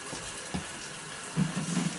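Water trickles from a tap into a pan of eggs being cooked, a faint low pour in short bursts at the end with a brief splash earlier.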